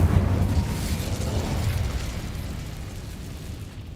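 An Incendio fire spell from Hogwarts Legacy erupts in a loud, roaring blast of flame that slowly fades over a few seconds, with no talk over it.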